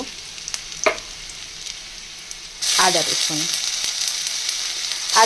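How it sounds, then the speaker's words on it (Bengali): Onions frying in oil: after a few quiet clinks, a loud sizzle bursts in and hisses steadily to the end while a voice speaks briefly. "পেঁয়াজগুলো একটু ভেজে নেব। পেঁয়াজগুলো ভাজা ভাজা হয়ে এসেছে।"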